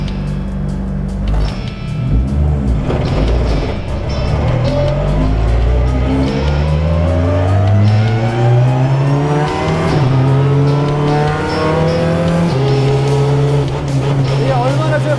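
A Hyundai i30 N TCR race car pulls away on the Yeongam F1 circuit, its engine loud and close, revving up through the gears in rising sweeps with brief drops at each shift, while commentators talk over the roar.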